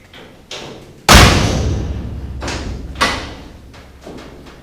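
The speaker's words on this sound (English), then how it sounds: "So the doors open and close nice." Doors on a 1933 car body, converted from a four-door to a three-window coupe, open and shut with a few thuds, including one heavy, close slam and a second strong shut.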